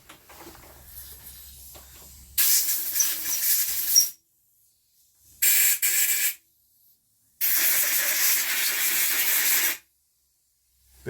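Compressed air blasts clean a Honda XR 125 motorcycle brake caliper: three loud, close bursts of hissing air, each cutting off sharply, with silent gaps between them.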